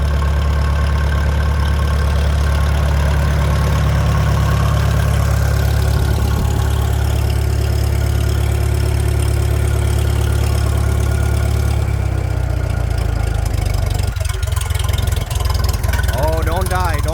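An old engine idles steadily while warming up, a continuous low puttering drone that holds throughout, with a brief stumble near the end as it nearly stalls and catches again.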